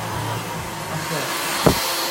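A handheld hair dryer blows a steady, loud, close stream of air while a brush works through a long layered bob, with a brief knock of the brush near the end.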